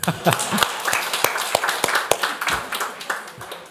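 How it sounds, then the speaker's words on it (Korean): A church congregation at a children's Sunday service claps in a loose, fairly close burst, with distinct sharp hand claps standing out over a background murmur of voices. "박수 한번 쳐주세요"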